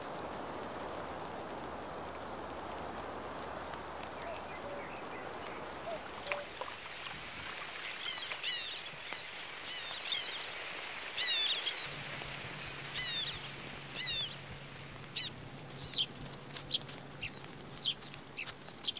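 Rain falling on green meadows in the German countryside, a steady soft hiss of drops throughout, with scattered bird calls and chirps rising over it in the second half.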